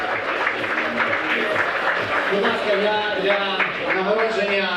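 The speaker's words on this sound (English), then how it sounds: "I think you need to applaud." An audience applauds prize winners at the closing award ceremony of a health hackathon, with a steady dense wash of clapping throughout and voices and tonal sounds mixed in underneath.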